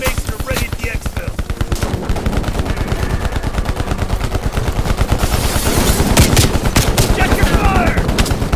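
Sustained rapid automatic gunfire in Call of Duty at a USSR training base, a loud continuous rattle of machine-gun shots with a voice briefly heard beneath.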